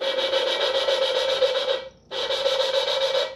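Steady gritty grinding rasp of a big-block engine head valve being lapped with coarse grinding compound, loud and continuous, briefly stopping and then resuming with the same rough scraping rhythm.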